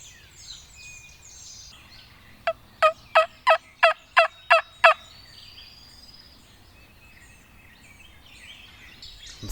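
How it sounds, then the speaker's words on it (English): A series of about seven rapid, rhythmic gobbles from a wild turkey, moderately distant, ringing out over quiet outdoor ambience with faint birdsong. "I just had one gobble"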